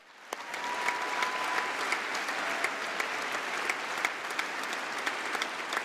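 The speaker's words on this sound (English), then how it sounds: "I just want you to clap at that point because he was wonderful" A Labour Party conference crowd in Birmingham gives sustained applause. The clapping is steady and dense, with sharper individual claps standing out from the mass.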